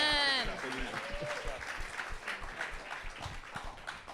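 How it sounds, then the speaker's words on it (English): Audience applause for a contestant named Glenn at a live stage show, a crisp crowd clapping that swells after a voice and cheer at the start and keeps going with distinct individual claps. "Give Glenn a big round of applause"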